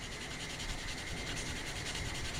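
A Scotch-Brite pad scrubs Miata center console parts in a steady, close, fairly quiet rubbing hiss with a faintly pulsing back-and-forth texture and no talking.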